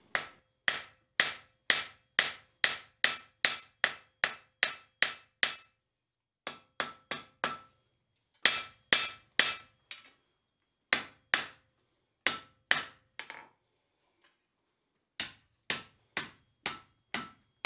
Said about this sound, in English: I want to forge an offset in the handle where the shovel blade is going to go, and I'll do that using half-face blows at the near edge of the anvil